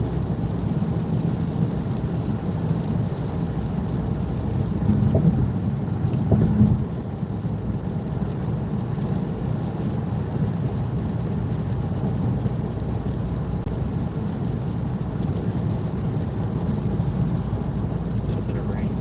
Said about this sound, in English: A little bit of rain here.